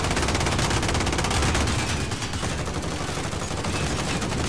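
Continuous rapid gunfire in the Modern Warfare Armored Royale battle mode, dense automatic bursts blending with loud shots that run steadily throughout with no pause, with no voices over the fire.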